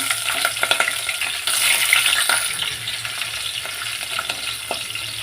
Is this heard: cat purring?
no